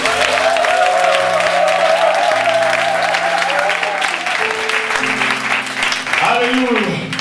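A church congregation at a Sunday worship service applauds steadily in a loud, dense wash of clapping, with sustained voices and music tones running underneath throughout.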